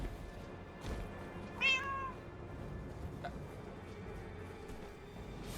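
A house cat meows once inside a room, a single short rising-and-falling cry that stands out clearly over a steady low background hum, with a few faint knocks nearby and no talking.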